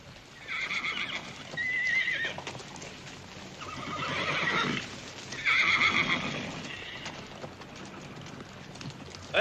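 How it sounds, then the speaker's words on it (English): A black gelding saddle horse neighs loudly several times while hooves clip-clop nearby, whinnies rising and falling between stretches of hoofbeats. "That handsome black gelding, a prime example of Ponderosa bred saddle stock."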